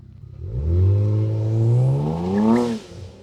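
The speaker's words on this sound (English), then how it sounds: "This car comes with launch control." A Kia Stinger GT engine revs hard on launch control, its loud note climbing steadily in pitch over about two seconds, holding near the top, then dropping away abruptly, close and clear with no voices.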